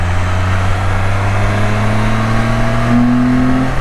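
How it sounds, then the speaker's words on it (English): The engine of an F3 vehicle drones steadily and loudly on a road as it accelerates, with a pitch that climbs slightly near the end of the short run. "You hearing the mighty F3?"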